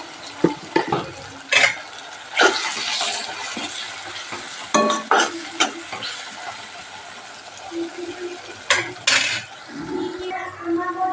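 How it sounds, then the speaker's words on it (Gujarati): Red chili goes into sizzling masala in a pan, bursts of loud frying hiss mixed with clattering stirring and utensil knocks against the pan, close and uneven. "આપણે લાલ મરચ નાખી દઈએ આમાં આપણે લાલ મરચામાં નાખી દઈએ"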